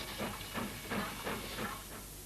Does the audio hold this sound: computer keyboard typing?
no